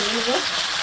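Chicken pieces sizzle in hot oil for chicken korma, a brief, close and steady frying hiss.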